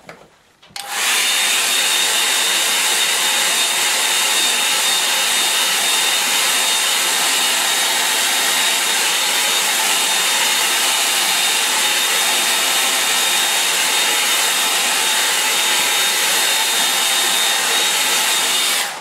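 A hair dryer blows steadily on a watercolour painting of early morning light over a lake, starting abruptly after a brief pause and holding a loud, continuous whooshing drone with a thin whine on top until it cuts off at the end.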